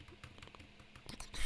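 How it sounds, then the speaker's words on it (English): Quick typing on a computer keyboard, with soft clustered key clicks and taps close by and quietly rising toward the end. "I suck at typing."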